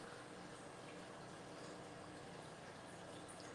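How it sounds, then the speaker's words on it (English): Water pours and splashes steadily and faintly while being changed in a tank of wild betta fish fry, a continuous low wash with no talking. "Changing water on the wild beta fry."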